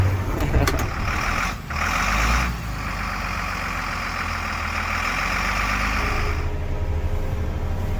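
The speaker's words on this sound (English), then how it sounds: "It's like an off-road semi-truck." A Unimog U500 off-road expedition truck engine runs with a steady low drone and rattling mechanical hum, revving briefly early on before settling into a constant loud idle.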